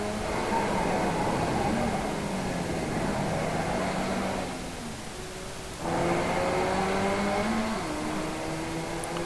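A race car at speed on a track in a club race, a steady loud engine drone with a brief dip in the middle before the roar returns.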